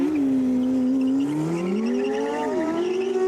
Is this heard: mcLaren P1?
yes